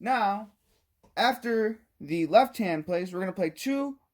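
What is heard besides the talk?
None of the usual background noises is heard.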